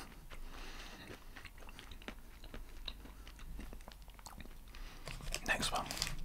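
A hazelnut coated in chocolate is bitten and chewed close up, soft crunches and wet mouth sounds running throughout, with some quiet breathy noise near the end.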